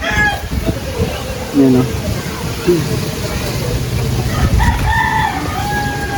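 Chickens cluck and squawk close by while a person talks, with a rooster's crow rising faintly near the end.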